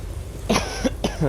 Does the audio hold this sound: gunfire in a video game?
no